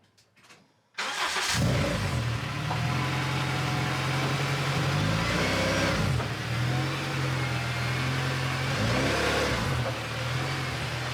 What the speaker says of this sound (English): I got the car back together, took it for a test drive